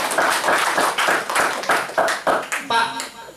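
Rhythmic group clapping at a business opportunity presentation in Indonesia, about a dozen sharp, evenly spaced claps in unison that end in a closing flourish, fairly loud and close.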